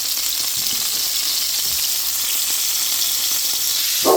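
Capers and chili flakes fry in a hot pan with a continuous close sizzle that holds steady throughout, ending in a brief louder burst, with no voices.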